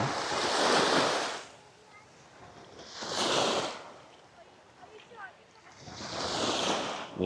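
Sea waves at Bakhaw Beach on Camotes Island roll in with three distinct surges of washing surf, each swelling and fading, with wind noise and quieter lapping water between them.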